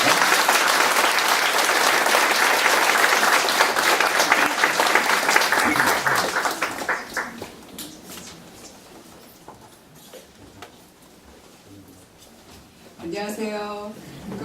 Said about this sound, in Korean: 우리 따스한 박수로 교수님 모시겠습니다.